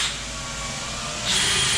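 A power drill bores a small pilot hole into wood flooring during a vent inlay installation, a steady high whine that grows louder and higher as the bit bites in, close and alone.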